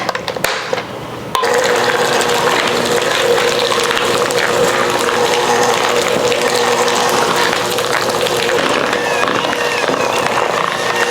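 Electric mixer fitted with double paddles whipping thick homemade healing body butter, a steady loud mechanical whir with rattling gear noise that starts abruptly after a brief quieter moment and runs continuously to the end.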